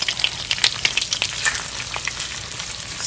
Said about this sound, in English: I'm going to turn that down to medium-high and add my shallots